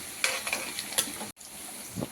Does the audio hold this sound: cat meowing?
no